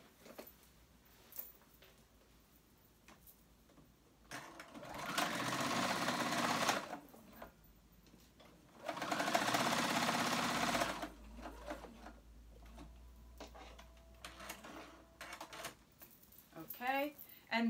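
A sewing machine stitches a flounce tee, pieces joined right sides together, running in two sustained bursts of several seconds each between quieter handling noises and brief talk.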